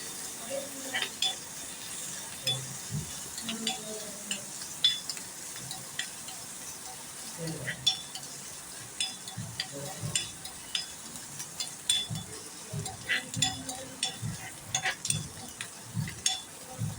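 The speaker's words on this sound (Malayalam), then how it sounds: "ഈ സമയത്ത് നമുക്ക് ഉള്ളിയും തേങ്ങയൊക്കെ നമുക്ക് വറുത്തെടുക്കാം" Onion and coconut frying in a pan until browned, a soft steady sizzle broken by frequent metal spoon scrapes and light clinks against the pan as it is stirred.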